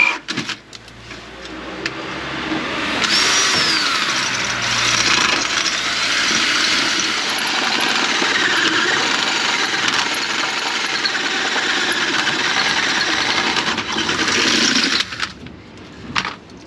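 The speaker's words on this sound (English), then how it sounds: "we've decided to drill a hole in the chassis for our mount" Power drill bores a hole in a Sprinter van chassis, a loud continuous grinding whine held steady for about twelve seconds at close range before cutting off abruptly.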